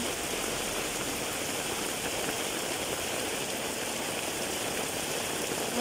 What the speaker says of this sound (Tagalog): Para katakot na ulan to.